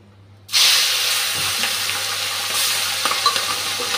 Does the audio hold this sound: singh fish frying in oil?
yes